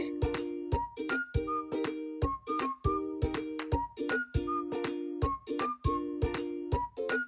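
Baking powder and a pinch of baking soda are mixed into date-jaggery cake batter, with the utensil clinking against the bowl in a quick, steady rhythm of sharp, close strikes and no talking.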